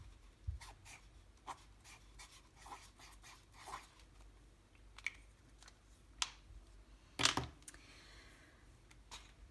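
An acrylic paint marker writing on paper in quiet, scratchy strokes that come in short, irregular bursts, with one firmer scrape near the end.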